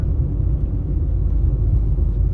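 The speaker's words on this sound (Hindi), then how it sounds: "गाड़ी जाने दो।" Safari vehicle driving at night through Bandhavgarh National Park, a steady, close, loud low engine rumble running throughout with no talk.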